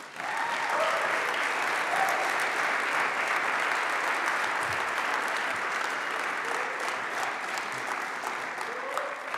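Audience applause fills a college chapel at Wabash College as a student speaker is welcomed for a Black History Month talk, steady and dense clapping from a large crowd lasting throughout without a break.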